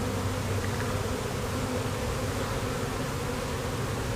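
A honeybee swarm buzzes as a dense, unbroken hum, fairly faint and even, with no voices.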